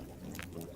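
A brief, faint splash of water is poured into a pot in a video game, a soft liquid rush lasting under a second over low background hum.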